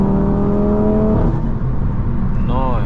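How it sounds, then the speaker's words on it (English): A 520 hp Audi RS3 with a dual-clutch transmission under full throttle at night, heard from inside as a loud rising engine drone that breaks off around a quick shift, then climbs again. "If we flatten the throttle."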